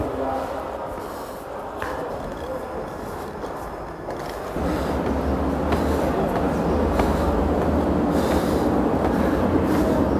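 A subway train at a metro station in Guangzhou, China, with a low hollow rumble that swells and grows louder midway and stays steady, with faint squeals and other sounds over the station noise.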